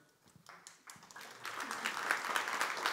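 Scattered audience clapping at a lecture on intelligent design, starting faint and thin then swelling into fuller applause over a few seconds.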